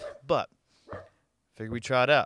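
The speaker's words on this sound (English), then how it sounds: "You might hear some pitter patters going and some barking." Wiener dogs on a deck let out a few short barks and yips, close by and mixed in with someone talking over them.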